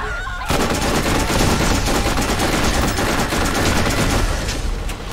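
Sustained automatic fire from a weapon being tried out in Borderlands, loud, close and unbroken for about five seconds after a brief lead-in.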